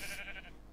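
A Minecraft sheep gives a short, close bleat that fades after about half a second, a brief wavering animal cry standing alone.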